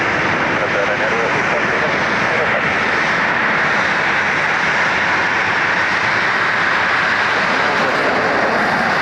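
An airliner lands at Dublin Airport on a Sunday morning, its broad engine roar loud and continuous, with a voice talking over it.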